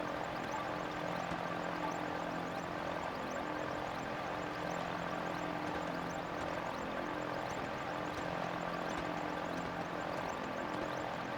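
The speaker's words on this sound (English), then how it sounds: "Sorry about the engine noise." Steady droning engine of a flying vehicle in Zelda: Tears of the Kingdom, a continuous propeller-like hum and whir holding even and loud for the whole stretch with no talk over it.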